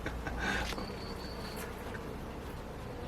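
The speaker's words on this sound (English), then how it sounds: "Every time I walk by, one of these bees pokes its head out, looks at me to see if I'm a threat." Bees at their nest entrance, kept by a rare bee collector, give off a faint, steady buzzing with a slightly louder stretch near the start and no talking.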